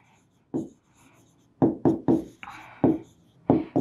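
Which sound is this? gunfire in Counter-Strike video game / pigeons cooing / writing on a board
writing on a board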